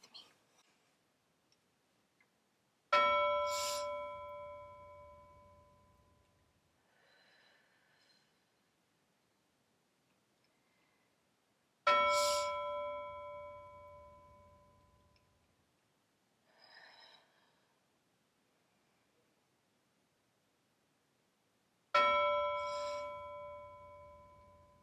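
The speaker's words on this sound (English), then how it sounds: "I'm going to listen for my bell and do 3 breaths as I hear it chime." A mindfulness bell rings out three times at slow, even intervals, each strike bright and clear with a long, fading harmonic tail, and the room is otherwise quiet between chimes.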